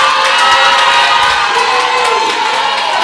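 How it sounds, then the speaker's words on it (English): An induction ceremony audience responding loudly with dense crowd noise, cheering and clapping blended into a continuous roar, sustained throughout. "A round of applause."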